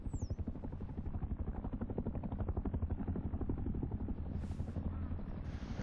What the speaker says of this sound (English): now, on to taking heli, who is currently patrolling a cluster of monuments to the east